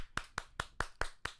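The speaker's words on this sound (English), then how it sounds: "So let's can we get a clap?" Six crisp, evenly spaced hand claps from a single person in a quiet room, close and fairly soft, with no talking.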